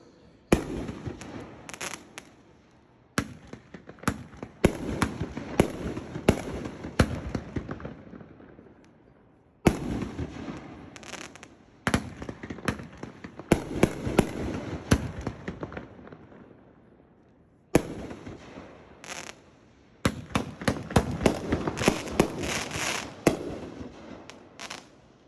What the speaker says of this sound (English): This is a Tako brand 500 gram, 16 shots, Sailor's Nightmare